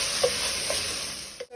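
Mint and coriander leaves sauté in a pan for egg biryani, a soft steady hiss with a couple of light stirring scrapes, fading briefly near the end.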